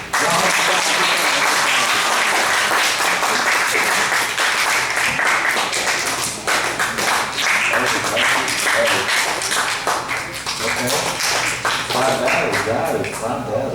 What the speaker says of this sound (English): Don't need to clap.